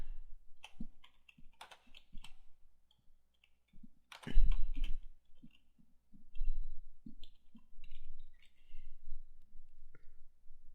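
A computer mouse clicks and a keyboard types while a WordPress page is being built, giving sparse, close clicks and short tapping bursts with quiet gaps between them.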